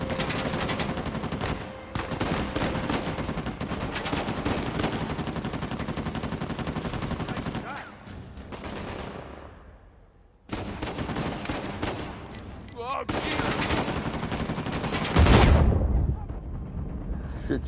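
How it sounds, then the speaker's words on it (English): Gunfire in Uncharted 4 combat: rapid bursts of automatic fire and scattered shots crackle loudly, break off into a brief lull, then resume with a sharp heavy blast near the end. "Is somebody shooting at me somewhere?"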